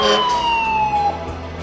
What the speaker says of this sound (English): an ambulance going by.